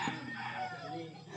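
A rooster crows faintly at a rural home, a short and fairly distant call over a quiet background murmur.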